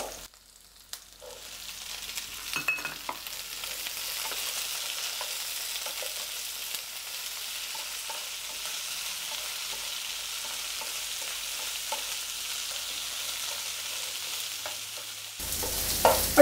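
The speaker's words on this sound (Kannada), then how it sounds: "ಸೀಮೆ ಬದನೆಕಾಯಿ ಎಣ್ಣೆ ಚೆನ್ನಾಗಿ ಫ್ರೈ ಆಗಿದೆ" Chayote pieces frying in oil in a pan, a steady close sizzle with occasional stirring scrapes, continuing alone without talk and swelling louder near the end.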